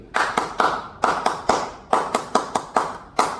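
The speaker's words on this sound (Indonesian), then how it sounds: "Tepuk tangan pramuka 1 kali" Scout-style clapping by a group, a patterned sequence of claps in short bursts with pauses between groups, close and crisp, no voices over it.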